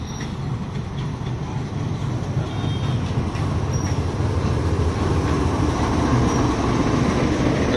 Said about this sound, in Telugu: ఇదైతే గూడ్స్ ట్రైన్.